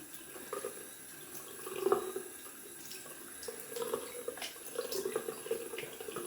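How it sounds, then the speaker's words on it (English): Running cold tap water splashes and patters in short bursts as it wets a face, close by, with no talking. "wet my face with some cold water"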